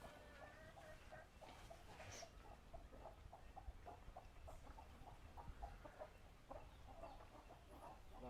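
Chickens cluck in a steady, repeated rhythm at moderate distance, with a few louder squawks rising over the flock; the birds are a white-legged fowl breed offered for sale at a rural property in Jaffna.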